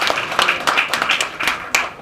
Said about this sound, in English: Just supposed to clap at that point.